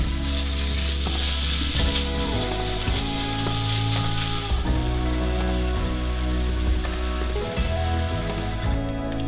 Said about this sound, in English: I am going to brown up, or cook up, all of this bacon.